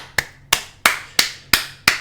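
Six sharp, evenly spaced claps, slow and deliberate, sound close and dry with short decays and silence between them.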